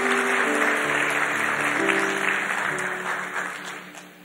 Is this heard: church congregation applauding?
yes